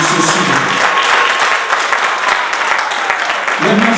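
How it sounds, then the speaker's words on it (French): Guests at a civil wedding ceremony clap together in dense, steady applause that fills the room from start to finish, with a voice briefly rising over it near the end. "Applaudissez s'il vous plaît"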